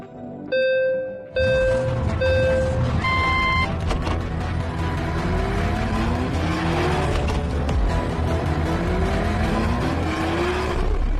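Cartoon racing cars and a taxi in a race, loud continuous engine roar with rising revs and tire squeals, preceded by short electronic beeping tones like a start countdown.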